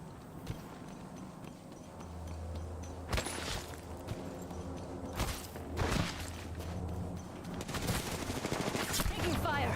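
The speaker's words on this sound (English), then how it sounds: "Whoa, they're shooting at me." Apex Legends gunfire: scattered, sharp shots and short bursts crack over a steady background hum, growing denser toward the end, with a little voice chatter underneath.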